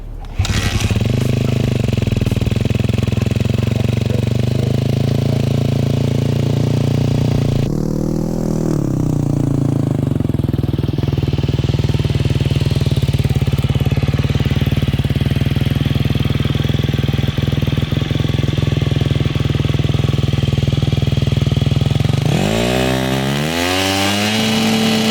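A refurbished KTM 250 motorcycle engine idling steadily and loud for a long stretch, with a rough two-stroke drone that dips and shifts slightly before a short rev-up and falling pitch near the end.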